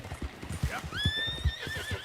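Horse in Red Dead Redemption 2 with steady clip-clop hoofbeats at a gallop, about four strikes a second, and a rising whinny running over them partway through, close and fairly loud with no talk.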